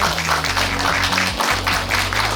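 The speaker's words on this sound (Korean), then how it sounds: "여러분 큰 박수 부탁드리겠습니다" Audience applause fills the hall at the closing ceremony of the 17th Seoul International Senior Film Festival, a steady dense wash of clapping with music playing underneath.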